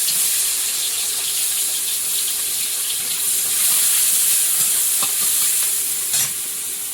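Chopped onion sizzles steadily in hot oil in a wok while being stirred, a continuous loud frying hiss with a few scraping sounds and no talk.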